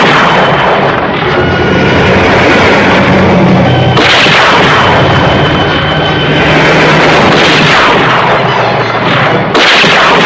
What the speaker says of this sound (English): I'll try a couple of shots.